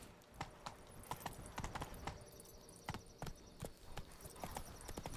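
Horse hooves clip-clopping in a video game, a quiet, rapid, regular rhythm of close hoof strikes throughout, with no speech.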